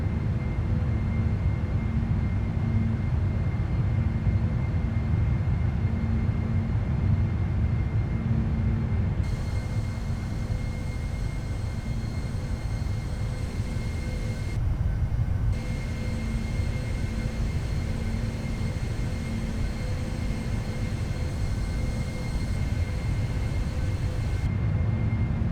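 A PMDG Boeing 747-400F climbing after takeoff in a flight simulator makes a steady broadband engine roar with a constant hum. The sound holds even throughout, and a few brief tonal layers come and go.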